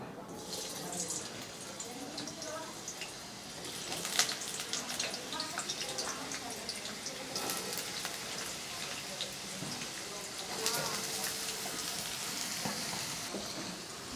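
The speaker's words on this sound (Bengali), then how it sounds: "আলুগুলো যাতে তাড়াতাড়ি ভাজা হয়ে যায়" Soft, steady sizzling and crackling of small diced potato pieces frying in hot oil, with occasional sharper pops and faint clinks throughout.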